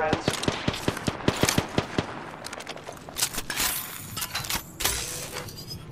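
Video game gunfire rattles in a quick run of sharp automatic bursts, then gives way to scattered shots, impacts and breaking-glass crashes, with some in-game voices in the mix.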